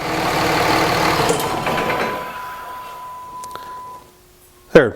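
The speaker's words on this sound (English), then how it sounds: "we've had the truck running" A Dodge Cummins 5.9 diesel truck engine runs at a steady idle, a broad rumble that gradually fades quieter, then a sharp mechanical clunk near the end.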